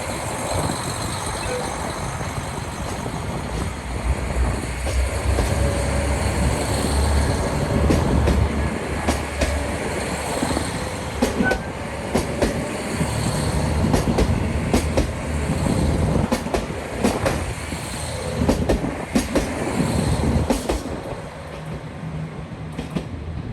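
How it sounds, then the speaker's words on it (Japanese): A train pulling out of Oshamambe station onto the Muroran Main Line, its steady rumble and rail noise building as it slowly gathers speed, with wheel clatter and occasional squeals over a continuous low roar. "列車の扉が閉まりました。 警笛を鳴らして発車。 ゆっくりと加速していきます。"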